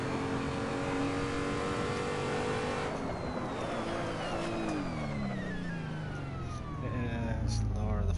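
A car engine in a racing video game revs high and holds steady, then drops in pitch through shifts and climbs again, loud and continuous from up close.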